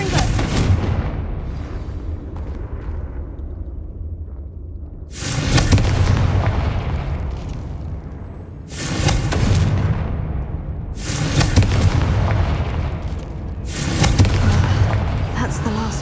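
Confringo spells detonate in Hogwarts Legacy as four loud, deep booming blasts land a few seconds apart, each one rolling off into a rumbling tail.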